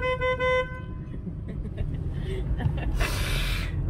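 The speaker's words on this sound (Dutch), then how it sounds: "We moeten wel toeteren." Car horn toots briefly at the start, a short bright honk, followed by steady road and engine rumble from inside a moving vehicle during a flower festival drive, with a gasp-like sound and rustling later.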